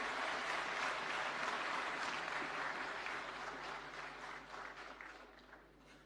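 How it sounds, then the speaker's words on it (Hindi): Applause at the NPA 2024 award ceremony honours the winners, a large audience clapping steadily and loudly before gradually thinning and fading toward the end. "एक बार जोरदार तालियां सभी विजेताओं के लिए"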